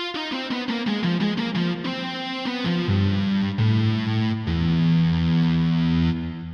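A Casio CZ-101 synthesizer runs through a distorted guitar-amp effect preset, playing a gritty, buzzing melodic line with sustained chords. The tone is loud and upfront throughout, with no voices.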